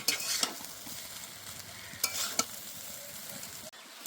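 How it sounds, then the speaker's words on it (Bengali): Fried rice being stirred in a pan, a soft continuous sizzle with a few bursts of scraping and clinking from the spatula, no voices. "আবার একটু নেড়ে নেব।"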